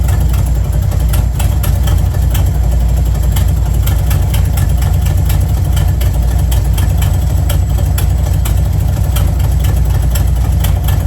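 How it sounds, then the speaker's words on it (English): A car engine, just started with the choke on, idles loudly and steadily up close, a rough, continuous rumble with a faint rhythmic ticking throughout. "So I guess we're gonna fire the car up and see what happens."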